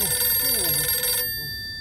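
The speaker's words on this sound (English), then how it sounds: "The phone rang for the second time." A telephone rings once in a dusky room, a fairly loud electronic trill with a warbling tone that cuts off abruptly, leaving a faint steady hum.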